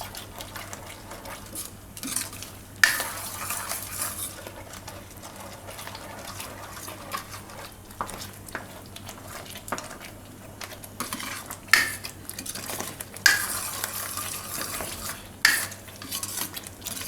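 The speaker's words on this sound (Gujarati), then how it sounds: "હવે આમાં આપણે નાખી દઉં આ દહીં અને મિક્સ કરી લેવું." A spoon stirs yogurt into a Gujarati pumpkin and paneer curry in a pan, giving soft scraping strokes and occasional metallic clinks over a steady low hum, close and moderately quiet.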